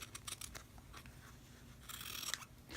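Scissors snip the little corners off the ends of a fabric yo-yo strip, giving several quick, close cuts and then a brighter crisp series of snips.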